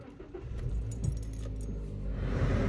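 Keys jangle and a car engine with an intermittent no-start fault cranks and catches, settling into a low steady running rumble.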